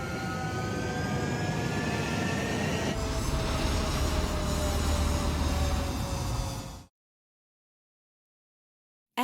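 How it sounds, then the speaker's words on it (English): Bomber aircraft engines roar in the video game Ace Combat 7. A loud, dense, steady drone with whining tones holds for nearly seven seconds, then cuts off abruptly into silence. "Bombers incoming."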